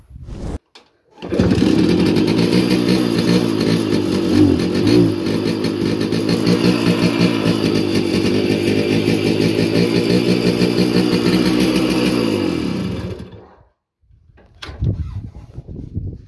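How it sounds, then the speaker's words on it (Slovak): A Jawa Pionier moped engine starts after a couple of brief attempts and then idles with a steady, buzzy, close putter for about twelve seconds before cutting off. Faint handling noises follow. "ten Pionier naštartoval, normálne som bol v šoku, že vôbec naštartoval"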